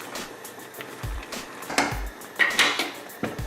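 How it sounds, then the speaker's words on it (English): Beans in a pot being stirred with blended peppers and tomatoes, giving repeated clinks and scrapes of a utensil against the pot at an irregular rhythm, close and moderately loud, with no talking. "Stir the peppers into the beans."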